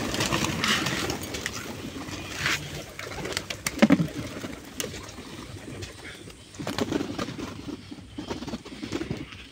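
Pigeons kept at home coo in soft, low, irregular bursts over a steady outdoor ambience, with occasional wing flutters and a louder coo near the middle; no one speaks.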